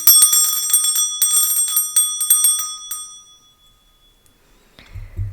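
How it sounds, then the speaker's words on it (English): A hand bell rung several times in quick succession, bright ringing strikes with long sustained tones that decay into near silence, followed by a faint low thump at the end. "I'm going to start by clearing the energy with my bell."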